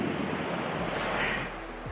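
Ocean waves at a beach in Ilocos Norte, Philippines, a steady broadband rush of surf mixed with wind noise, fairly loud and continuous.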